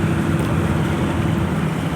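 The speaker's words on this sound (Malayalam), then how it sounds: "ഇതേ ബോട്ട് അടുപ്പിക്കുകയാണ്" A boat pulls in to dock on a sunny, cool day, with a close, steady low engine rumble and water noise mixed with wind buffeting the microphone throughout.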